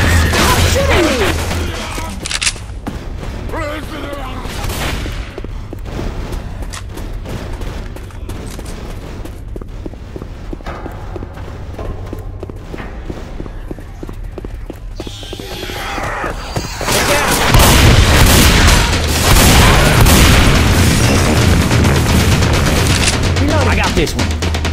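Rapid automatic gunfire from the Left 4 Dead 2 zombie shooter, mall atrium level, rattles loudly and almost without pause, with bursts growing denser and heavier near the end and a brief voice under the din.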